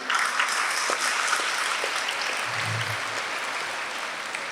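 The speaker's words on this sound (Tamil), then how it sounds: "கைத்தட்டி அத்தனை குழந்தைகளுக்கும் நன்றி" Schoolchildren clapping together in an assembly for a guest speaker, a dense, loud, even wash of applause that holds steady throughout and fades only slightly near the end.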